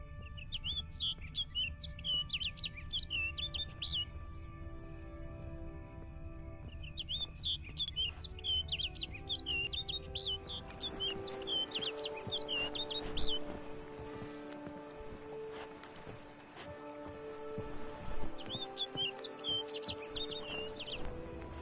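Repeated bird chirps and tweets in a video game, coming in bursts over a steady musical and ambient background with some hoof-like clip-clop, fairly clear throughout.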